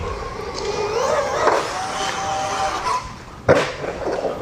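An RC two-wheel drive truck drives around a skatepark, its electric motor whining and rising in pitch as it gathers speed, then a sharp thud as it lands a jump, with no talking.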